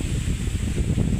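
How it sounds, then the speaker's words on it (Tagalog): Strong wind blows steadily against the microphone outdoors near an old narra tree in rainy weather, a continuous low rumbling roar with no voices. "Oh, sobrang lakas ng hangin dito guys."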